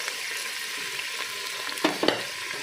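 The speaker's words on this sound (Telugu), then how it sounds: "వేసేసి ఒక్కసారి కొంచెం మంచిగా వేగించుకోవాలి." Boiled mutton tripe frying in a pan, a steady soft sizzle with a couple of brief stirring scrapes near the end, heard alone with no talking.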